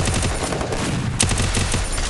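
Continuous in-game gunfire from Garena Free Fire, rapid overlapping shots forming a dense, loud volley throughout with a few sharper bursts standing out.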